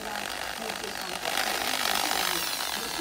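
A power drill bores into material while a swivel hook for a trap cage is being made. It gives a continuous grinding whir that grows louder partway through, with a voice heard faintly beneath it.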